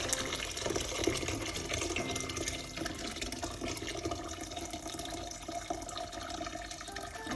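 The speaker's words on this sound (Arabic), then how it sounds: "وغادي نضيفو هنايا الماء طيب" Hot water pours steadily into a pot of sautéed couscous vegetables and celery, a continuous close gush and splash that runs unbroken and fairly loud.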